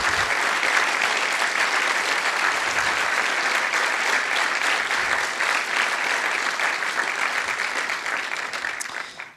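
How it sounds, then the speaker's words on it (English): Sustained audience applause for the speakers at a community JavaScript conference, dense, steady clapping filling the room for about nine seconds, fading slightly at the end. "please, a round of applause for every single one of our speakers"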